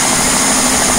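A Rotating Flow Turbine spins on compressed air fed through a hose, giving off a loud, steady, even whirring hiss with a high whine and no pauses or changes in pitch.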